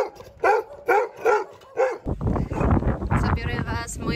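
Dogs behind fences bark in a rhythmic series of about five loud, close barks, then a noisy jumble of yelps and whines mixed with wind or movement noise, in a quiet residential area in Curaçao.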